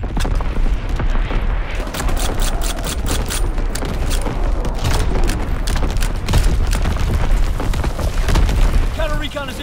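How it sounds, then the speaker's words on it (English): Enemy artillery barrage in Call of Duty, a rapid run of loud booming explosions and gunfire cracks that continues without a break, with brief voice chatter at the end. "Incoming enemy artillery."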